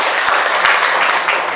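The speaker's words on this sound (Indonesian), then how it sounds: "Tepuk tangan dulu untuk kita semua." A classroom of students applauds together after group presentations in an Indonesian language lesson, steady dense clapping filling the room close by, with no voices over it.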